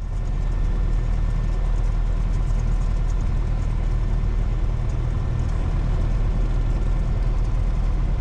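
A light aircraft engine runs at a steady run-up before takeoff, a continuous loud low drone that stays even throughout with no talk over it.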